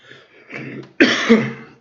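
A few rough coughs close up, a softer pair followed by a loud, harsh burst, with no talking.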